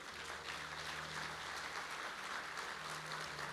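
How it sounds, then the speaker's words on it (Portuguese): A church congregation applauds steadily, a dense, even wash of many hands clapping at moderate distance with a faint low hum underneath. "Dê um aplauso a Ele."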